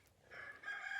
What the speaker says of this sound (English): He's upset about the chickens crowing.